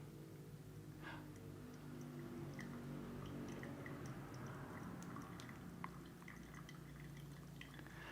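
Hot water trickles from a gooseneck electric kettle into a V60 coffee dripper in a slow, quiet pour, with soft dripping and faint spattering over a low background hum.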